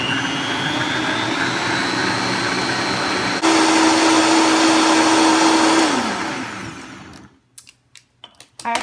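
Blender pureeing butternut squash soup with coconut milk: a loud, steady whirring roar that shifts pitch midway, winds down, and gives way to a few clattering knocks.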